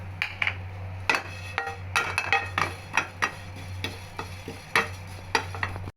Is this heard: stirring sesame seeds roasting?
yes